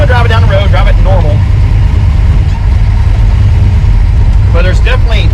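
A car fitted with a Tremec TKX manual transmission drives steadily down a road, its engine giving a constant low hum throughout, with people talking over it at the start and end.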